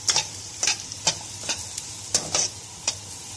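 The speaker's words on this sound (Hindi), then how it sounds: "दो से 3 मिनट इसको फ्राई करें।" Carrots being stir-fried in a pan for a chicken soup: a soft frying hiss runs beneath a series of about eight quick scraping stirs in an uneven rhythm, close and clear, with no voices.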